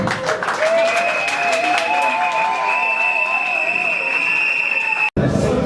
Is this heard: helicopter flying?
no